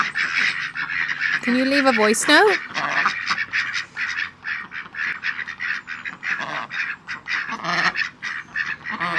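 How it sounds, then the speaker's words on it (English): Ducks quacking close by in a series of honking, nasal calls, loudest early on, while a person talks over and between them. "So we're gonna go and get a voice note from the ducks."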